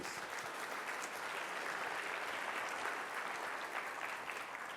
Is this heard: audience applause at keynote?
yes